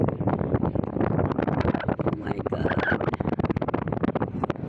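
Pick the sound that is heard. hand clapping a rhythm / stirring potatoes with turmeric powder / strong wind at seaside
strong wind at seaside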